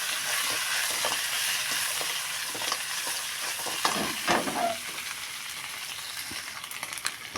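Onion sautéing in a pan for pork ribs, a close, steady sizzle with intermittent stirring scrapes and clicks, and a louder stir burst partway through.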